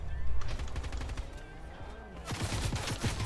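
Rapid bursts of gunfire in Fortnite crackle in quick succession, loud and close, with a tight rhythmic volley toward the end.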